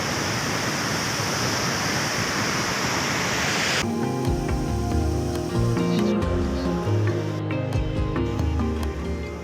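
Dunhinda waterfall in Sri Lanka roars as a dense, constant rush of falling water for several seconds, then cuts abruptly to music.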